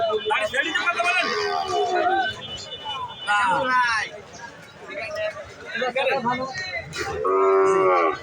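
Cattle moo loudly and repeatedly up close at a village livestock market, long drawn-out calls rising over a crowd of voices talking in the background.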